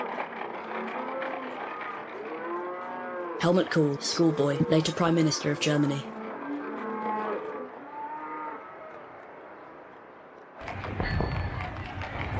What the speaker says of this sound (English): The ramshackle carts were drawn by cows.